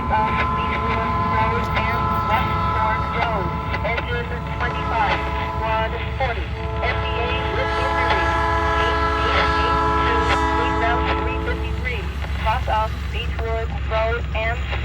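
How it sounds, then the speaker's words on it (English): A heavy freight train rumbles past near a hill, its horn blaring in long sustained blasts over the steady roar of wheels and cars, with a voice talking over it. "let's go get the train again"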